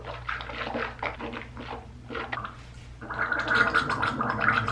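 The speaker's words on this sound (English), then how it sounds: "we're going to swish for about 5 minutes" Coconut oil swished around in the mouth, wet gargly sloshing in uneven bursts that grows louder and busier toward the end, heard close with no talk.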